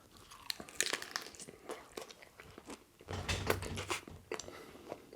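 Close crunching bites and chewing of a Chinese chicken lettuce wrap with hoisin sauce and cashew nuts, crisp irregular crackles with a denser burst of chewing midway, no talking.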